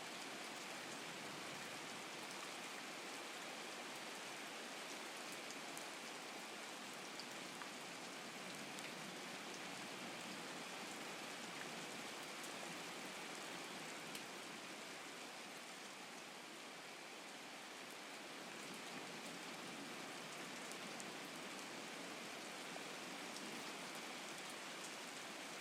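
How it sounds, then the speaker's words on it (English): Rain pours during an NFL football game between the Detroit Lions and Green Bay Packers, a steady, even hiss of falling water that stays constant throughout with no voices. "The rain set to continue as we are underway in the second half."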